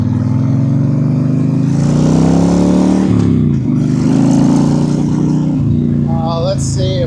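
A Honda Sabre 1300 factory chopper motorcycle rumbles steadily while being ridden, its engine droning loud and close with shifts in pitch as it slows and picks up again, wind noise mixed in and brief talk near the end.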